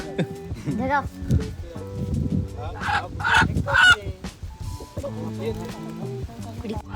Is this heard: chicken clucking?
yes